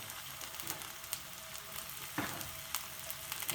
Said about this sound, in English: But I want to saute.